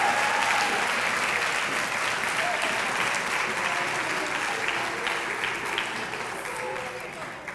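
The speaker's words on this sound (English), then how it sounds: "Let's give a big round of applause to all these exceptional women." A large audience gives a sustained round of applause at a women-in-business awards event, a dense, even wash of clapping that gradually tapers off across several seconds.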